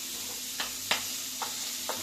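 Carrots and beans are stirred in a pan for a restaurant-style veg corn soup, with four sharp scraping strokes spaced out over a soft, continuous sizzle.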